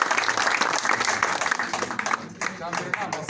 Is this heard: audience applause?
yes